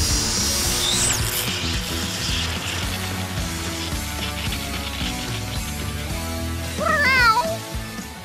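Kittens meowing in a children's PAW Patrol toy-play scene, a couple of short high mews early on and a louder rising cluster of meows near the end, over a busy background of music and clatter.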